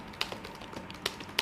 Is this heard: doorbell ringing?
no